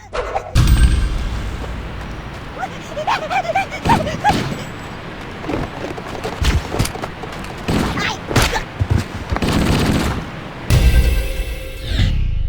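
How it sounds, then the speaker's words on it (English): MA5B assault rifle fire in the 2001 video game, loud bursts of rapid shots and heavy booms packed closely across the clip, with echoing impacts and short gaps between volleys. "The MA5B is an infinitely rewarding gun, a real gaming icon."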